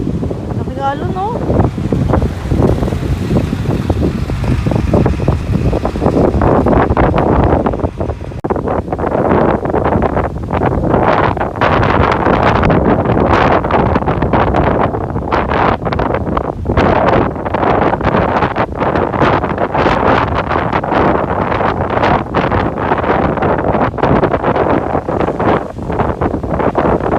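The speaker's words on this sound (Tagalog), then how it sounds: "Grabe ang lakas ng alon." Strong sea waves at Matawid on the Quezon coast between Dingalan and General Nakar, buried under heavy buffeting wind roaring across the microphone, with muffled voices at times throughout.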